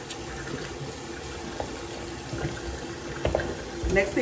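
Tap water runs steadily from a bathroom faucet as it warms up for a washcloth, a soft continuous splash lasting several seconds with no talking.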